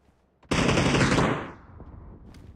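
A video game automatic weapon fires one loud, close burst of rapid shots lasting about a second, then the sound trails off into a fading echo.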